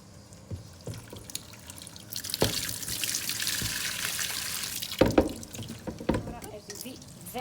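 Tap water runs over freshly cooked pasta in a home kitchen to cool it, a steady splashing hiss with drips under intermittent speech.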